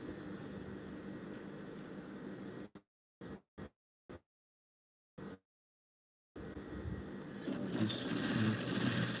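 A sewing machine runs in a steady whirring stretch, then stops and starts in several short bursts with silent gaps, before resuming a longer continuous run that grows louder.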